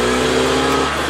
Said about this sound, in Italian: gustarti tornanti su tre ruote snocciolando lo ZF ascoltando il rombo metallico dei 6000 giri al minuto del boxer